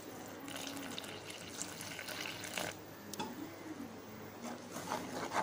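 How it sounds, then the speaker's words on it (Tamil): Water is poured into bajji batter mix in a bowl for cauliflower fritters, a soft, steady trickling and splashing that continues throughout at low volume, with no talking. "தண்ணி ஊற்றி மிக்ஸ் பண்ணிக்குவோம்."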